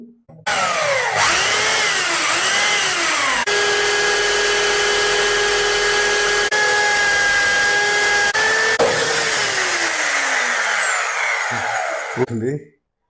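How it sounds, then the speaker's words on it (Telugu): A loud power drill fitted with a hole saw whines steadily for about twelve seconds, its pitch dipping as the saw bites into wood, then winding down. "వుడ్కు డ్రిల్ అయితే చూపిస్తాను"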